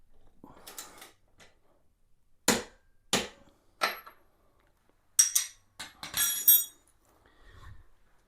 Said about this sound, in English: so I'm going to tighten this nut